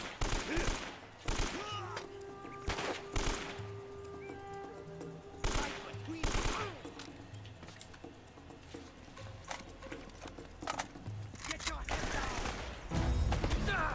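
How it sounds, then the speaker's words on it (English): In the game Uncharted: Drake's Fortune, an AK rifle fires loud bursts of automatic gunfire several times with short gaps between them, over game background sounds and a few brief voices. "Let's play with the AK a little bit."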